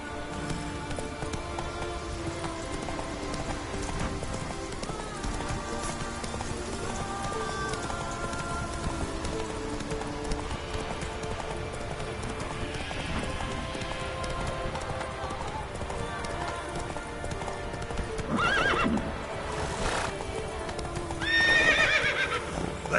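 Horse galloping in The Witcher 3 video game, with repeated whinnies and neighs over steady hoofbeats and a busy game soundscape, the loudest neighs near the end.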